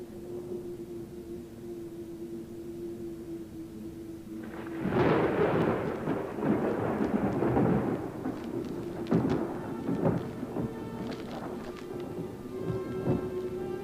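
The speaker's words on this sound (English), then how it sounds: "Outside, the storm was rolling in." A thunderstorm: after a quiet steady hum, a deep rumble of thunder breaks in and rolls on, with crackling bursts and rain-like noise continuing.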